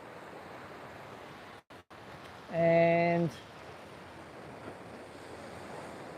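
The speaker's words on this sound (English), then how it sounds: "I can see waves coming" Ocean surf washes steadily along a Gold Coast beach between Greenmount and Snapper Rocks, a continuous broad roar with wind on the microphone and a brief voice cutting in partway through.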